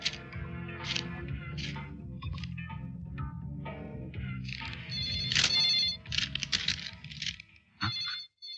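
A phone ringtone plays a repeating electronic melody over a low background hum, fairly loud and continuous, with brighter tones swelling near the end.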